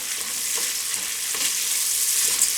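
Pasta browning in melted butter in a pan sizzles and fries steadily, with soft scraping and stirring sounds on top, close and fairly even throughout with no speech.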